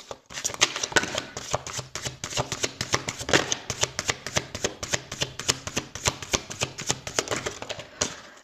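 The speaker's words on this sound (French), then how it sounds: "je prends les cartes de lumière" Tarot cards being shuffled by hand, a steady rapid rhythm of crisp riffling flicks that runs continuously and close up, no talk over it.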